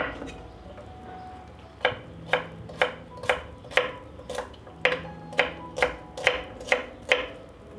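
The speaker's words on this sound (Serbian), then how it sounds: "iseckat ću jednu glavicu belog luka" A head of garlic is chopped with a knife on a cutting board, giving about a dozen crisp, evenly spaced thuds close up over a faint background hum.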